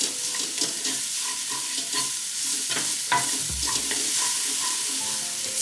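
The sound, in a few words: shallots being stirred in a hot skillet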